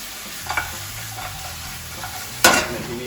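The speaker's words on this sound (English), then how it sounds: "I like tossing the ribs in the skillet." Baby back ribs tossed in sauce in a skillet give a steady close sizzle, with light stirring scrapes and a sharper burst of frying near the end, no voices.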